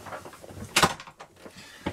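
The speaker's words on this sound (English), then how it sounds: "So let's shut this door." The door of a Swift Kon-tiki 794 motorhome is pushed shut with a single solid thump, followed by a fainter knock and soft rattling settling sounds, close by.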